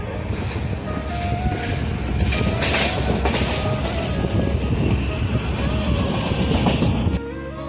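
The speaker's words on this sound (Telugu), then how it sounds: "బయట రైలు ముందుకు వెళుతుంది" A train rolls along the rails with a steady rumble and rhythmic clacking, a few brief squeals, then a sudden drop near the end.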